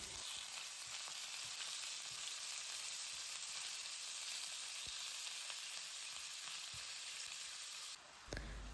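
Steady, loud sizzling of minced pork frying in oil in a hot pan, a continuous crackling hiss throughout with a brief shift near the end.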